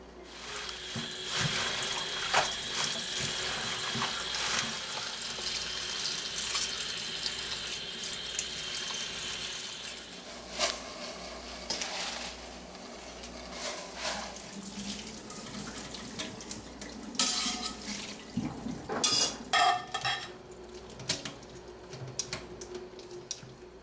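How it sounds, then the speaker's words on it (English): Fresh spinach is rinsed under a running kitchen tap for lentil burritos, a steady close splashing stream into the sink that keeps going with shifting spatters and no voices. "Now we need to clean, stem, blanch, and chop this spinach first."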